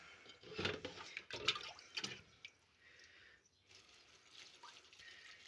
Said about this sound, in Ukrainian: Заливаємо в капусточку.